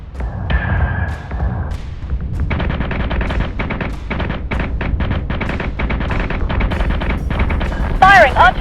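Starship weapons firing in the space combat game Battlestar Galactica Deadlock: loud rapid bursts of cannon fire over a deep rumbling background, with radio voices and a rising electronic tone near the end.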